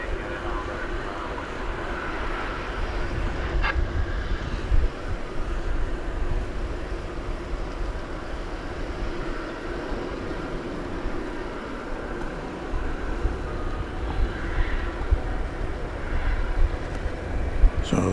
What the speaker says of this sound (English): will this plane take off over here on this side of the airport or not?